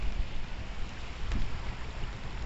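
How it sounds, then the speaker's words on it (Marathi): Water rushing at a monsoon waterfall near a Mahadev temple, heavy rain-swollen flow producing a steady, broadband roar throughout with no one speaking. "त्यामुळे खूप मस्त पाणी वाहत आहे"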